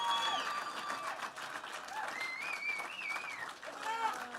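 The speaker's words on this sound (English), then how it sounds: "One more really big round of applause for Missy" An evening event crowd at a downtown YMCA fundraiser applauds at moderate level, clapping mixed with cheers and chatter, while voices call out over it.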